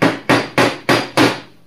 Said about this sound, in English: I do believe you could use this as a hammer in a pinch.